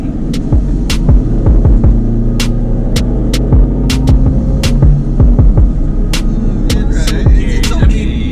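A Kaicene Honor S with a manual gearbox and about 105 horsepower accelerates, its engine droning loudly and steadily from inside the cabin, with a throbbing low hum throughout.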